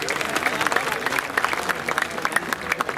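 A crowd at a Buddhist gathering in India claps to welcome a guest to the stage; steady, dense applause runs throughout, with a voice seeming to carry faintly over it.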